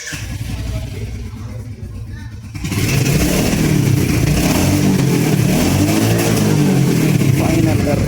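A Royal Enfield Hunter 350 motorcycle engine starts loud and close after a quieter stretch, then holds a steady, throbbing rumble with slight revving swells to the end.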